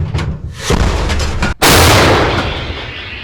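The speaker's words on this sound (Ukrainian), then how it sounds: "Один снаряд, вогонь! Гармата! Постріл!" A single heavy artillery gun fires a shell, cracking out and booming, its roar rolling on and slowly fading after a moment of rumbling background.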